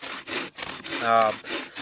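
A hand saw cuts through wood outdoors in the rain, rasping back and forth in several steady strokes, close and moderately loud, with no voices over it.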